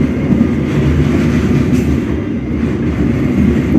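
A KRL commuter train runs between Pasar Senen and Jakarta Kota in Jakarta, heard from inside as a loud, steady low rumble of rolling wheels and car noise with no voices.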